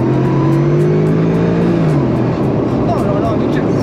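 A loud, throaty Mercedes SLR engine, heard through an open car window, rumbles and roars steadily, its pitch gliding downward partway through before settling into a rough, low growl.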